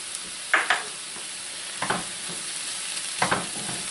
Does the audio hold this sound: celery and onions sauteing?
yes